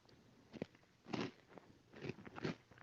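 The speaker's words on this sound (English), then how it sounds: "Can you hear me chewing?" Crunchy Cheetos being chewed close to the mic, with several quiet, crisp crunching bites spaced a second or so apart and no talking.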